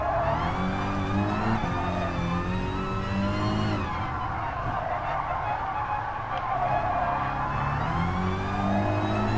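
Front-wheel drive race car of around 350 horsepower in a racing simulator, engine revving hard and continuously with rising and falling pitch through gear changes, loud and close, no voices.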